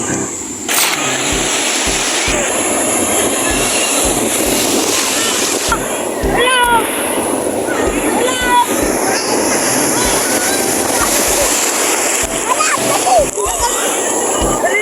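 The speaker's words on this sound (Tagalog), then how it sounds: "Malakas ang hangin, malakas ang alon." Loud, continuous roar of rough surf in strong wind, heavy wind buffeting, waves crashing close by; a voice speaks briefly in Filipino over it.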